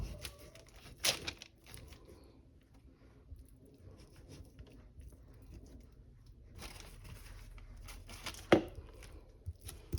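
A knife trims excess meat from a slab of pork ribs. A few soft cutting scrapes and light thuds come in short bursts, separated by quiet gaps, close and faint.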